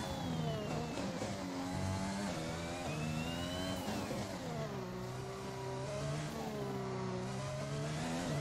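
A Formula 1 car engine in the F1 2021 racing game howls through a Barcelona time trial lap, revving up through the gears in repeated rising sweeps with shifts between them, loud and alone throughout.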